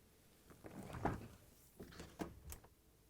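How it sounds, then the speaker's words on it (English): Samsung refrigerator doors being opened during a crisper cover frame repair: a few soft clunks and rubbery seal sounds in quick succession, fairly quiet and close, with no talking. "we need to open both refrigerator doors"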